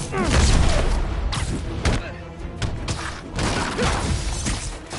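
Gunfire and heavy impacts in the Spider-Man PS4 video game, a rapid burst of loud cracks and thuds at close range, with shouted voices mixed in.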